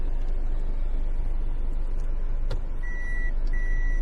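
A 2013 Toyota Estima Aeras 2.4 automatic gives short reversing-sensor beeps over a steady low idle hum, two brief tones near the end, with no talk.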